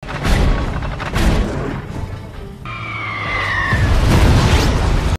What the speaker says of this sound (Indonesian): Turnbull malah menembakkan meriam ke arah kapal itu sebagai pemanasan. Seketika kapal itu pun hancur lebur